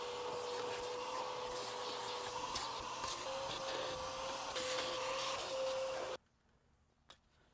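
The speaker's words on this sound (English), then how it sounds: "So just gonna start cleaning and start vacuuming." A vacuum cleaner works inside a C6 Corvette interior with a loud, steady droning roar and faint rustling, then cuts off abruptly near the end, leaving near silence and one small knock.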